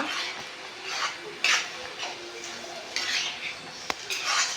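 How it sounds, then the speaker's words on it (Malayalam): A spoon stirs prawn masala, fried prawns mixed into the masala, in a pan, giving repeated scraping and clinking strokes at a steady close rhythm with no voice over them. "നല്ലപോലെ ഇളക്കി യോജിപ്പിച്ച് കൊടുക്കുക"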